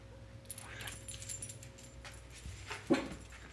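Faint, close whimpering and soft whining from a dog being petted, with small rustles and a slightly louder whine near the end.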